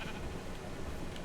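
A sheep bleats in the video game Minecraft, a short, buzzy, noisy call that blends into a dense, steady background.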